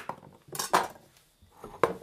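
A knife chops the ends off carrots on a board, giving a few sharp, close knocks and scrapes separated by short pauses, with no talking.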